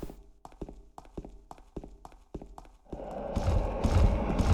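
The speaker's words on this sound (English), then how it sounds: "Until we heard those footsteps" Footsteps echo through a hospital basement in the video game Silent Hill 2, sharp rhythmic thuds repeating about eight times before a louder, rumbling ambience swells in and swallows them.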